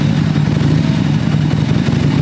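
A 1979 Harley-Davidson Sportster Ironhead runs on a chilly day with a loud, steady, throbbing engine drone close by, its low rumble continuous throughout, no voices.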